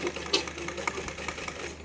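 A sewing machine stitches a suit in a short, steady run, its motor whirring with rapid, even needle clicks close up and fairly loud, with no talking.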